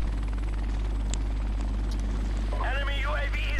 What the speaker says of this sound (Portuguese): Tenho helicóptero, pronto.